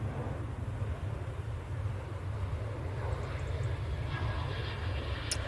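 A plane departs Manchester Airport, its engine roar heard as a steady, distant low rumble with no clear rise or fade, and no voices on top.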